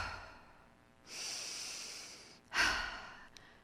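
A person breathes during a yoga session, one long audible exhale followed by a sharper, louder breath, close and alone without talk.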